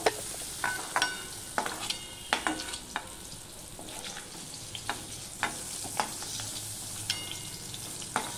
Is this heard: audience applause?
no